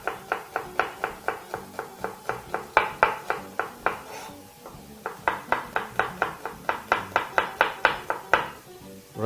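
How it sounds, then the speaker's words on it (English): Peeled garlic being thinly sliced with a knife on a board, a fast even run of crisp taps close by, pausing briefly midway before resuming at the same brisk pace, with no one speaking. "all you want to do now is just get some beautiful thin slices"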